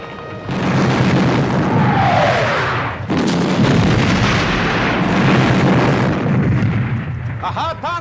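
Continuous loud artillery bombardment from a Napoleonic Waterloo battle scene, dense booming cannon fire and rumbling blasts rolling on throughout with a brief dip midway, with faint voices and crowd noise underneath.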